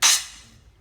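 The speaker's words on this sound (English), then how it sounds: "I can make a really short sound with the cymbal" A single cymbal hit, bright and splashy, cut short almost immediately as it is grabbed, leaving only a brief fading shimmer.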